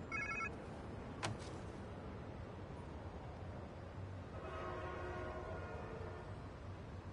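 A cell phone ringing in Marvel's Spider-Man 2, a brief electronic ring at the start, then a sharp ping and later a longer tonal ringing pattern, all set against a constant low rumbling game ambience.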